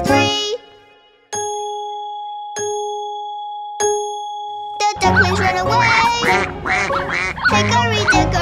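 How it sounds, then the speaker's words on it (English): Three clear chimes of a clock striking three in a children's nursery rhyme song, each ring sustained and fading, followed by bright cartoon music with duck quacks. "The clock struck three."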